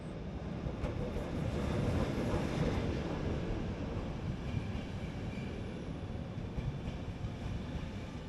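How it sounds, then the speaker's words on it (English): The international Alex passenger train pulls into Prague from Munich, a steady low rumble and rolling clatter of wheels on rails that holds at a moderate distance without fading. "here is the international Alex service arriving from Munich over in Germany"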